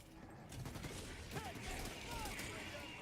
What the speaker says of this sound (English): I like this SMG. It sounds nice.